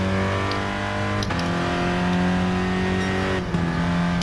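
A 2014 Honda Fit engine in a racing game drones at high, steady revs, stuttering against the rev limiter with brief dips as gears change.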